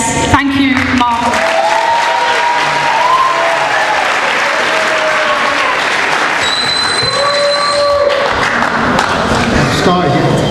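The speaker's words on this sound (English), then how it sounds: "thanks everybody for the round of applause" An audience at a People's Assembly public meeting in Merseyside gives a sustained round of applause for a union committee chair, steady clapping filling the hall for about ten seconds with a few voices and cheers mixed in.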